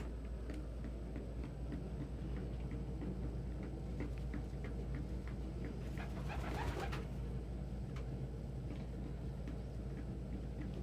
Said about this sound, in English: Dodger tried to land in Cody's nest.